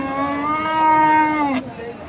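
A bull at a crowded cattle market for the Qurbani sacrifice gives a loud, close, sustained moo lasting about a second and a half, ending abruptly, with market murmur behind it.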